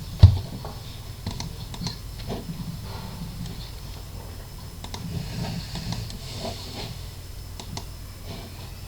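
Someone types on a computer keyboard in a quiet room, soft uneven key clicks pattering on and off at low level, with no talking.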